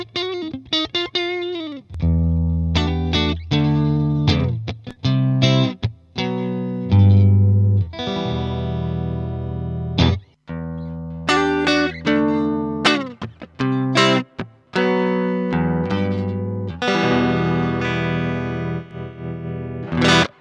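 Telecaster played through a Red Mist MKIV distortion pedal into a Fender Deluxe Reverb tube amp, with added reverb: crunchy distorted chords and single-note riffs, with stabs, sustained chords and brief pauses.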